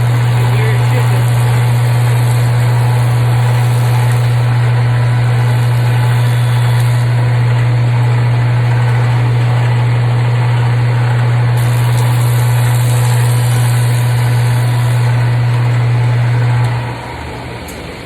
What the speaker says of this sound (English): Pull my board off the machine, I turn it on, let it get up to speed